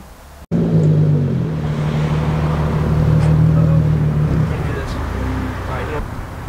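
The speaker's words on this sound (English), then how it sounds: "Do you like my new car?" Car engine idling steadily and close by, a low droning hum that starts abruptly after a brief dropout and holds level throughout, with faint background rustles.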